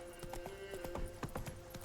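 Hooves of Roach, the horse in Witcher 3: Wild Hunt, clip-clop in a quick uneven walking rhythm, close and clear over a faint steady background tone.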